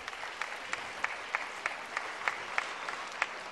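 Applause at a Bulgarian sports-of-the-year awards ceremony honouring national volleyball captain Vlado Nikolov, a fairly quiet, distant field of clapping with a few sharper individual claps standing out in a steady patter.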